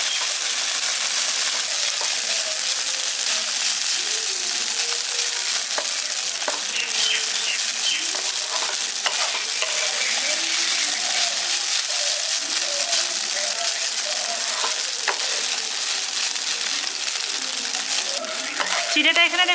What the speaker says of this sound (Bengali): ঘিয়ের মধ্যে হালকা একটু ভেজে নিচ্ছি।